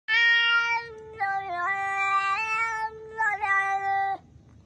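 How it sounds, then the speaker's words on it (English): A cat gives one long, drawn-out meow that rises and wavers in pitch like a sung note. It is loud and close and carries alone for several seconds before cutting off. "And I'm a singing cat."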